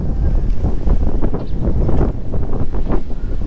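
Gusty wind buffets the microphone at a seaside farm resort overlooking the sea, a continuous rough rumble with rising and falling surges and no voices.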